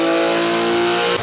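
A Porsche 911 GT3 RS fitted with an Akrapovic exhaust holds a loud, sustained, raspy high-revving howl for about a second before the note abruptly drops away.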